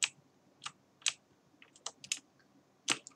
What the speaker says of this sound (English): I kept on clicking the keys.